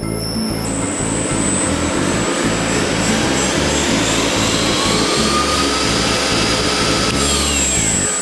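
Spindle of a Kent USA KTM-3VKF CNC knee mill running in high gear, a loud continuous mechanical whine with a pulsing low rumble throughout, and the pitch shifting slightly near the end.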